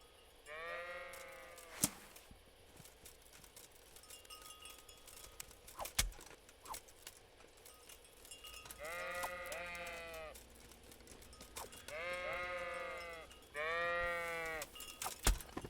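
Sheep bleat in the medieval video game Kingdom Come: Deliverance, several wavering calls near and fairly loud, spaced across quiet ambience with a few sharp clicks and clinks in between.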